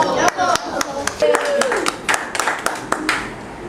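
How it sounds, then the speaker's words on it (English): A group at a martial arts commencement ceremony claps in sharp, loosely synchronized bursts, each crisp clap standing out clearly while people talk and call out over them. "Jumbo clap. Jumbo."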